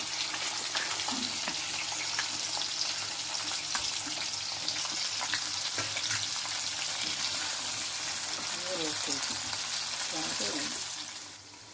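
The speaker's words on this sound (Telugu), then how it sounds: "పల్లీలు, కరివేపాకు, వెల్లుల్లి, పుట్నాల పప్పు, దొండకాయ ముక్కలు డీప్ ఫ్రై చేసుకోవాలి" Peanuts, curry leaves, garlic, roasted gram dal and ivy gourd pieces deep fry in hot oil with a steady close sizzle and occasional light stirring clinks, no speech, fading out at the end.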